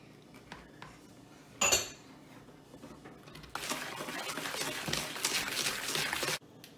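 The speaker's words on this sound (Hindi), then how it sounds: "अब मैं अपना नमक अंदर डालूंगी और फिर थोड़ा मिक्स करूँगी" Egg yolks, sugar and salt beaten in a bowl for crème brûlée: a sharp utensil knock, then several seconds of steady, busy scraping and clinking against the bowl, close and fairly loud.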